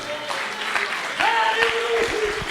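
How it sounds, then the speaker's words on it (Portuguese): A church congregation claps in praise during a sermon, steady clapping under a sung or called-out voice that rises partway through. "As palmas louvem ao Senhor."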